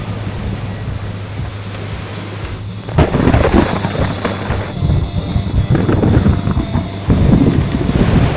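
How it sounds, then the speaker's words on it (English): Strong wind roars and buffets the microphone on a boat at sea at night during a lightning storm, with a constant low drone and surging gusts. "Woo, it's windy and dark."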